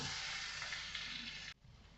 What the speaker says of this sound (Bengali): এবার আমি এতে দেব যে আলুগুলো আমি ভেজে রেখেছিলাম লাল করে, এগুলো আমি দিয়ে দিলাম। এবার আমি এটাকে ভালো করে কষে গরম করে নেব।